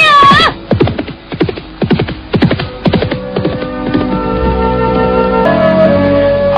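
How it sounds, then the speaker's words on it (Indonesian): A horse gallops and neighs in an audio-drama sound effect, opening with a high whinny, then a fast run of loud hoofbeats that blur into a rumbling, droning background, near and with no talking. "Mendadak telinganya menangkap derap seekor kuda."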